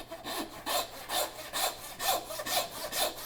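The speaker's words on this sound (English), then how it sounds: "I'm going to grab my handsaw." A handsaw cuts through the ball joint of a beef sirloin during butchering. There are about seven rhythmic rasping strokes, steady and close, with no talk.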